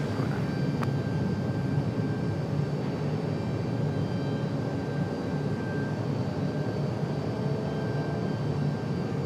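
Airplane taking off from runway 23 right at Raleigh-Durham International Airport, a steady broad engine roar held at constant loudness throughout, heard from a distance with no talk.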